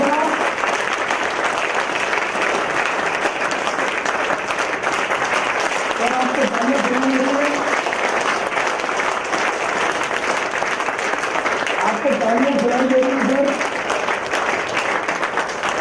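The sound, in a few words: studio audience standing applause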